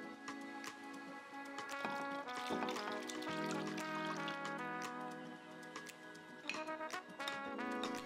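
Short rib braising liquid pours from a pot through a strainer, a steady close stream with clinks and taps of metal, faint and with no talking over it.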